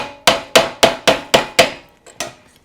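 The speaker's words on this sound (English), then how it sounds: "panel pin with a hammer to be nice and flush" A hammer drives a panel pin flush into a wooden beehive frame: seven sharp, close taps in a steady rhythm, then a lighter tap and one final strike.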